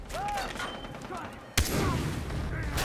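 A single sharp gunshot in Far Cry 3 rings out midway, loud and close, with someone talking over the surrounding game ambience.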